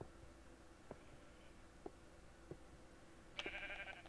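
Sheep in the video game Minecraft bleat in a short burst near the end, following a few soft clicks over a steady low background hum.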